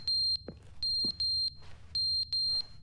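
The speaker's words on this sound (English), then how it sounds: "The fire alarm." Fire alarm in The Stanley Parable video game: loud, pulsing electronic beeps in repeated bursts with short gaps, plus a couple of brief low thuds between them and no speech.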